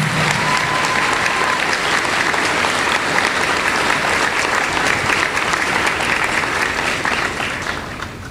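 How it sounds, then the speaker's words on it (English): A school convocation audience applauds its graduating seniors with dense, steady clapping that fills the hall for about eight seconds before tapering off at the end. "Please show all of these hardworking seniors another round of applause."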